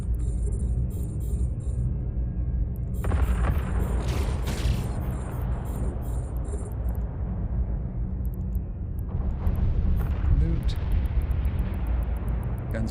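Ship guns firing in the EVE Online space game: deep booming blasts and low rumbling bursts recur over a sustained bass drone, loud and close, with brief high tonal interface beeps.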